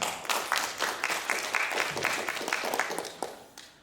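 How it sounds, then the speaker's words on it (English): Audience applause at an international academic conference in Seoul, a steady wash of many hands clapping at fairly even loudness, fading slightly toward the end with no talk over it. "please give Dr. Su another big round of applause."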